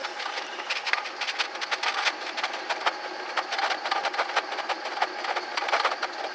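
A Ford Taurus engine idling with a blown head gasket, giving a dense, steady run of rapid puffing and ticking pulses, close and fairly loud with no talking.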